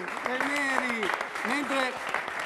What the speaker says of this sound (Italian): Facciamo un applauso del Neri!